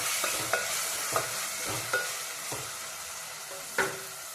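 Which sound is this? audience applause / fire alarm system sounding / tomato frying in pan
tomato frying in pan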